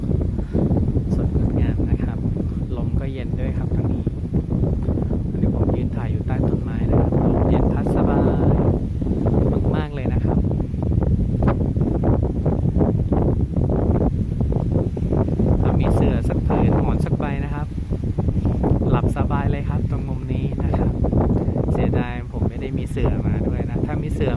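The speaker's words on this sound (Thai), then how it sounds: "ลมเย็นพัดมาแบบสบายมากเลยครับ" Cool wind blowing outdoors among trees and green grassland, a steady loud rush with buffeting on the microphone for the whole stretch, while someone talks over it.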